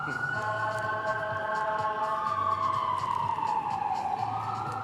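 An ambulance siren wails through a street with a rising and falling electronic tone that drifts in pitch, loud and steady above low traffic rumble.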